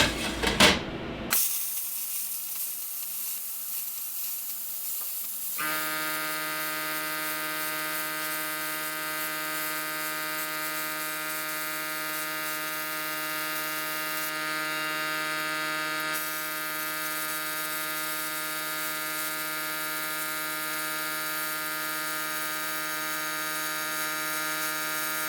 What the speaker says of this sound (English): we're going to cut a 8-inch circle